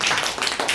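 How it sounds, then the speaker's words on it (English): A small audience claps for a presenter after a diploma presentation, a brief burst of close, brisk handclaps without talking. "round of applause for Andrew"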